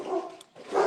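Dogs bark during a live stream, with two quick, close barks less than a second apart.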